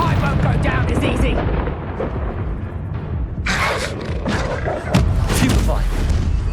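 A Confringo fire blast spell goes off in Hogwarts Legacy, bursting out amid busy combat noise with booming thuds and rumbling effects layered over one another at a steady, loud level.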